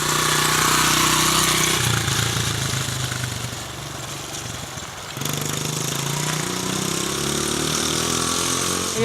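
A dirt bike engine drones steadily at close range as it rides a wide line around a gravel turn. The pitch dips midway, then the revs climb again.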